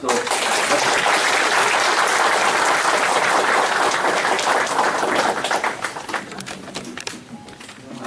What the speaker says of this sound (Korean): 우리 남시장님께 큰 박수로